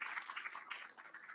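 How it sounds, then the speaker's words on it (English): Audience applause at an academic brownbag event, a faint, brief patter of clapping heard from a distance. "Come on, let's give him a clap."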